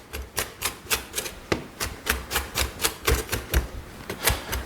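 Knife dicing sliced green onion finely on a cutting board for fried wonton filling, a steady run of crisp, close chops about three per second, loud and without talk.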